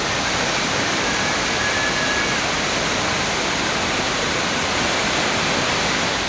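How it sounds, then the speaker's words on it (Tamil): Flooded waterfalls at Courtallam in Tenkasi district roar as a dense, steady, loud rush of water with no breaks or other sounds. "குற்றால, மெயினருவி, சிற்றருவி, ஐந்தருவி உள்ளிட்ட அனைத்து அருவிகளிலும் வெள்ளப்பெருக்கு ஏற்பட்டது"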